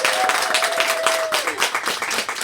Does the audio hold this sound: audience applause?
yes